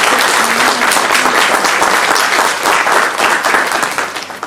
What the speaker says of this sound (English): So give them a round of applause for actually making